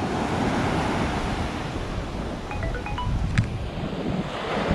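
Ocean surf washing onto a beach during a morning of surf fishing for pompano, a steady broadband wash of breaking waves with wind noise over the microphone, continuous and fairly loud, with a faint brief tonal chirp partway through.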